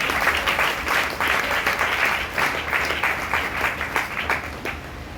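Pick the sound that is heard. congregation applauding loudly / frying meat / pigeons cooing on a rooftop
congregation applauding loudly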